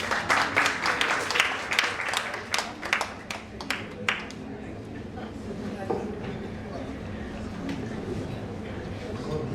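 A symposium audience claps for a speaker being welcomed to the dais, a burst of moderately loud applause in the first few seconds that thins out and fades into quiet room noise.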